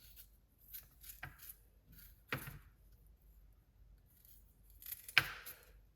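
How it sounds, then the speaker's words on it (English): A knife scrapes and peels the skin off fresh ginger: a few faint, sharp scratching cuts spaced a second or two apart over a quiet background. "I'm going to remove the skin from this ginger"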